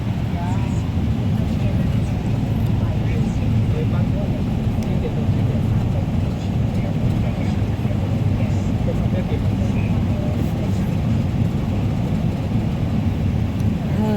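Steady low rumble of a bus engine and road noise from inside the moving vehicle on a road in Yuen Long, with a voice talking over it throughout.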